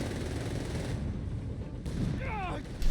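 Tank cannon and gunfire from a Panther in Company of Heroes 3, a steady barrage of explosive bursts over a rumbling battle bed, with a short chirping sound effect near the end and a loud blast closing.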